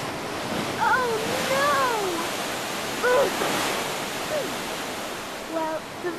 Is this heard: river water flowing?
yes